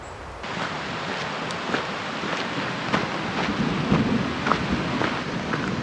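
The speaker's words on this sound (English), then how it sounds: "You could probably hear the thunder. Looks like a thunderstorm's coming in." Thunder rolls from an approaching thunderstorm over the High Sierra wilderness near Bear Lakes Basin, a dense steady rumble with rain hissing throughout and scattered sharper cracks standing out over a few seconds.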